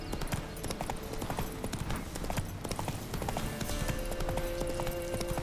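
The horse Roach's hooves clip-clop in The Witcher 3 video game, a steady, close rhythm of hoof strikes that continues throughout over a faint ambient background.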